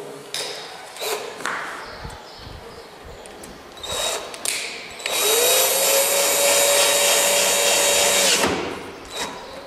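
A lock cylinder's retaining screw is driven into a box lock: a few clicks and taps, then a loud, steady whirring drive of about three seconds before it stops.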